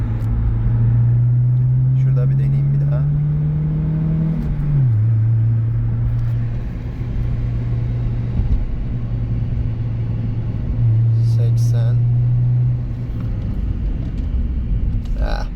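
A Ford Escort drives along, its engine a steady loud rumbling drone that rises in pitch as it accelerates, then drops and levels off while slowing, with someone talking over it inside the car.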